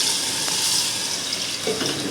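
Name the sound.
water poured into pan of fried okra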